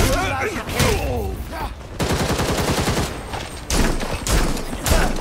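Video game gunfire from Red Hood in Gotham Knights, a rapid burst of shots and crackling fire over game sound, with a voice speaking early on.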